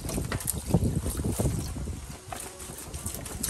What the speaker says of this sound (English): and you rinse